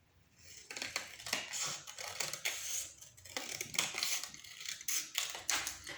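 Paper is cut along a drawn line for a craft, likely with scissors. A quiet, close series of rapid snips and crunches comes in irregular clusters with no talking.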